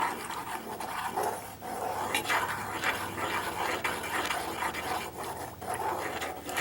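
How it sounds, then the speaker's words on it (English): Iron gall ink stirred in a saucepan, a steady scraping and sloshing churn with small metallic clinks, continuous and close for several seconds with no voices. "then you keep stirring until it is all fully incorporated"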